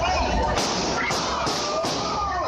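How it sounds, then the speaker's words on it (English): Gunshots from a shooting at a Zombicon event, captured on a cell phone: four sharp cracks spaced roughly evenly over two seconds, cutting through a loud, distorted background. "Gunshots."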